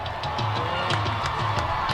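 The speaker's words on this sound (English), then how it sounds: "The crowd is making noise once again." Crowd at a Pella Dutch versus Norwalk high school football game cheers and shouts in a steady, moderately loud roar, with scattered whoops rising above the sustained noise and no break throughout.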